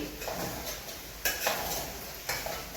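Sabudana khichdi with peanuts being stirred in a pan, a soft scraping and sizzling texture with a few louder spoon strokes against the pan, close and steady throughout.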